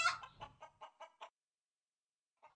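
A hen clucks in a quick series of short, close clucks, then falls silent before one final soft cluck.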